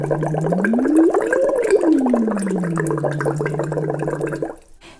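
A voice sliding up and down in a siren exercise while blowing through a straw into water, producing a continuous bubbling gurgle that rises in pitch and falls back, close and fairly loud, then stops abruptly.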